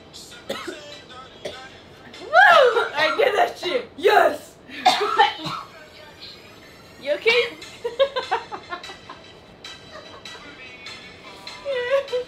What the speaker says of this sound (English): Coughing and trying to laugh is the worst combination.